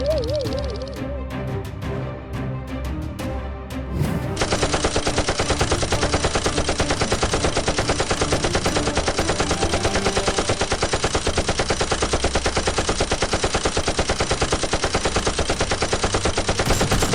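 Scattered pops from Nerf guns in a mock battle, then a loud, relentless burst of rapid-fire shots that runs without a break for more than ten seconds.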